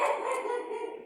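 A nervous dog barks continuously indoors, agitated by a cat out in the backyard; the sound is close, loud and dense, holding steady for about a second with no talk over it.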